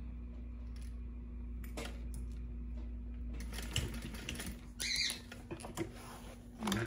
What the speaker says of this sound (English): We're gonna backstitch at the beginning and at the end.